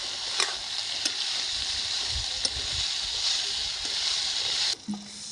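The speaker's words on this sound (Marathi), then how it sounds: "भाज्यांना आपण छान परतून घेत आहोत।" Vegetables sizzle steadily in hot oil while being sautéed in a pan, a close, continuous frying hiss with a few light clicks of stirring, no voices.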